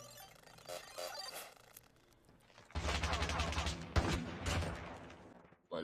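Gunfire in the mobile shooter Call of Duty Mobile, faint distant shots at first, then a louder close burst of rapid fire with a sharp crack near the middle, fairly quiet overall.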